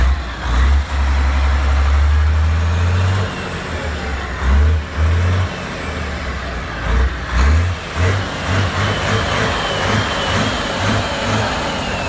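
A truck engine with a bent connecting rod and a blocked exhaust runs loudly and close by, with a heavy low rumble that surges and revs repeatedly over a steady idle.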